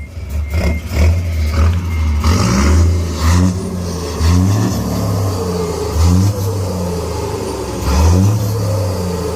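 A car fitted with a 360 resonator muffler with a new core revs hard in repeated bursts, about five throaty climbs that each rise and fall back to a rumbling idle, loud and close with no talk.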